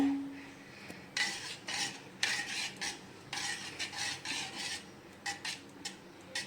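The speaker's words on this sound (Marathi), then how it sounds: "आपण आता याच्यामध्ये चवीनुसार मीठ घालूया हे सर्व मिक्स करूया" Rice flour batter seasoned with salt is stirred in a bowl, with repeated short scraping and sloshing strokes in an uneven rhythm, close and fairly quiet, with no talk.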